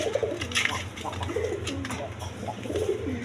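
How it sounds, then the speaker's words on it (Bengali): A pair of Gorra pigeons with ringed eyes coo repeatedly at close range, soft low throaty calls in a loose rhythm over light background noise on a farm. "দর্শকবৃন্দ এখানে এক পেয়ার গররা কবুতর আছে"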